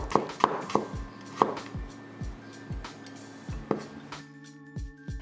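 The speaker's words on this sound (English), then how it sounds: "Thinly slice the onion." Knife slicing an onion thinly on a cutting board, a series of crisp close chops at an uneven rhythm, about ten strokes, clear and unaccompanied by talk.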